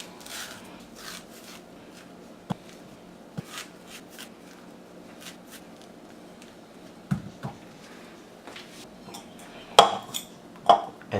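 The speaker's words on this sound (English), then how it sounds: "smash it with a fork till it forms a paste" A fork mashes a peeled banana into a paste in a bowl, making soft squishing scrapes punctuated by sharp taps of metal on the bowl, close by, irregular and growing louder toward the end.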